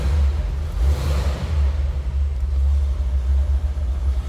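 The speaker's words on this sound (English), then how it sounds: "That was a cold start, so I had to pump it a little bit. Again, 312 Y-block V8." A 1957 Ford Thunderbird's 312 Y-block V8 with a four-barrel carburetor, running after a cold start, gives a loud, deep, steady rumble close by with slight surges.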